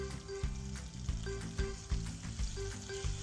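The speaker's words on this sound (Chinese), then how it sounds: "金蚝我哋上少少生粉，然后用慢火煎到金黄色" Dried oysters dusted with a little cornstarch sizzle steadily in a pan over low heat, with honey added at the end; a continuous close fry hiss is broken by regular soft clicks of stirring.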